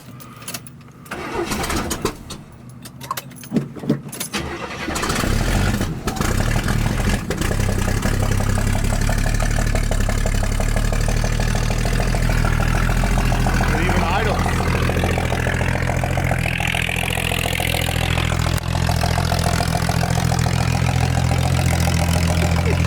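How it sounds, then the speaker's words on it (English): A 1971 Chevy Chevelle Malibu V8 in rough, cheap condition cranks and catches, then settles into a loud, steady, deep idle rumble held close by for the rest of the clip. "It idles."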